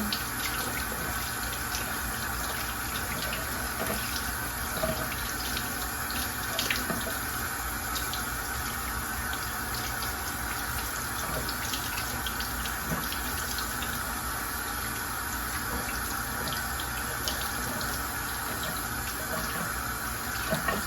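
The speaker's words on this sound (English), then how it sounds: "Just rinse off these roots a little bit." Tap water runs steadily into a sink while plant propagation roots are rinsed under the stream, a constant close splashing hiss with small shifts as the roots move through the flow, and no voices.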